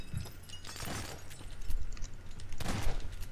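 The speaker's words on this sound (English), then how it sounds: "Stop shooting me, Chris." Gunfire in the Garry's Mod Prop Hunt game, bursts of rapid shots and booming impacts through a busy, noisy mix with players occasionally talking.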